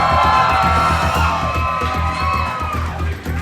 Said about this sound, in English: you cheer as loud as you possibly can if you like that person